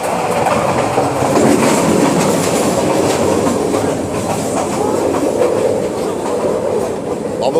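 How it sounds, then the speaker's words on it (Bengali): A Bangladesh Railway train running along the rails, with steady rumble and rhythmic clickety-clack of the wagons rolling continuously and loudly throughout, as heard from inside the carriage. "ট্রেন চড়তেছো, মজা পাইতেছ?"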